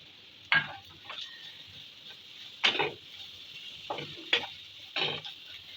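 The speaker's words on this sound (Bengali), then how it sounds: "এখন একটু বেজে নিব এখন আমি সেই চিকেনের জোড়াগুলি দিয়ে দিচ্ছি" Chicken pieces with ground cumin, garam masala and salt are stirred in a pan for patty filling: soft, faint frying hiss underneath about six separate scraping strokes spaced a second or so apart.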